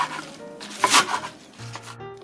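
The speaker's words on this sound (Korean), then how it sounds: "갈라해서 4, 5cm로 잘라주시면 됩니다" A knife chops green onions into 4–5 cm pieces on a board for spring white kimchi, a few close, quick cuts with one sharper knock in the middle.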